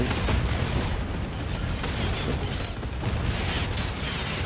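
Dense, continuous rumbling blasts and crackling debris fill the whole stretch, loud and unbroken, like a sustained explosion, in the mecha video game Mecha Break.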